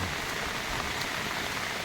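Heavy rain pours steadily onto a flooded rice paddy as overflow water runs into it, a dense and continuous wash of noise with no breaks and no voices.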